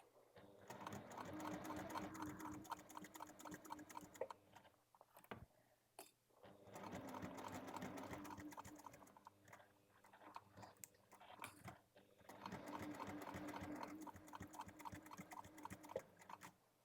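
A sewing machine stitches a seam on an Almora bag at a stitch length around 3.2, running in three steady bursts of close, rapid mechanical chatter separated by short pauses.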